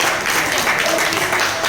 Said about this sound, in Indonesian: Boleh tepuk tangan dan syukur